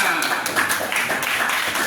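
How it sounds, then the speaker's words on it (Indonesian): A classroom of students claps hands together in a short burst of dense, fairly loud clapping, with voices faintly mixed in. "Tepuk tangan semuanya."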